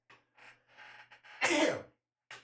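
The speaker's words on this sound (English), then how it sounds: "I have to sneeze" A single sneeze from a person playing Marvel Champions, a sharp, loud burst after a few short breathy intakes, close to the microphone.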